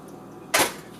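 Water from cooked spinach pours through a kitchen strainer in one short, splashy whoosh that swells and fades within a fraction of a second, alone over quiet background.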